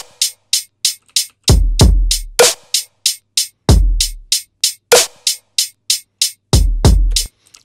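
Electronic drum clicks programmed in Cubase 10.5, the first click pitched down a semitone: a steady stream of crisp, sharp ticks with occasional deeper, booming low hits, loud and close with no talk.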